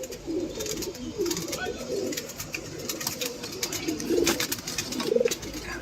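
Several female pigeons coo repeatedly in a shared loft, a mix of flying and resting birds, their throaty rolling calls coming in overlapping bursts close by, with faint clatter and a hint of voices in the background.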